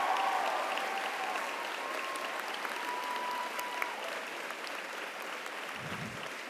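A large commencement crowd at Denison University applauds graduates' families with sustained, steady clapping that fills the hall throughout and slowly thins toward the end.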